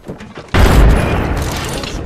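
Frag grenade detonating in Apex Legends, a sudden loud close boom after a moment of quieter game noise, followed by a sustained rumbling roar and debris that slowly fades.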